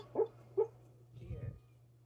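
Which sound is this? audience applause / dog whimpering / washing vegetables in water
dog whimpering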